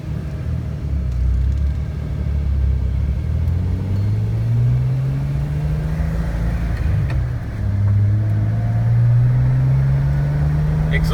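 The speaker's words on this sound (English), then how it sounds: "Exhaust has a really good tone to it." Deep, steady exhaust rumble from a nearby 2006 Jeep Wrangler LJ with a stainless steel exhaust, the pitch rising and falling gently as it revs, loud and continuous.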